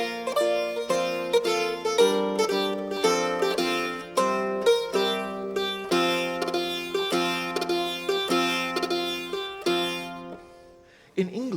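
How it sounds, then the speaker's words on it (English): A medieval bray harp plays a steady melody of plucked notes with a bright, buzzing, braying edge, ringing clearly on its own before fading out. "this is the sound of the Bray harp"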